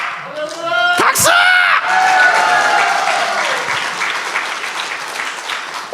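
A church congregation bursting into loud applause and cheering, with shouts and whoops over the clapping at first, then sustained clapping that gradually eases off.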